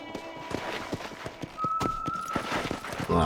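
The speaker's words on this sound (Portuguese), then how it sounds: "O cavalo chega, tá tudo se tremendo aqui nas paredes." Horse hooves in Red Dead Redemption beat out a quick, regular clip-clop at moderate distance, joined partway by a thin whistling tone, with no talk over them.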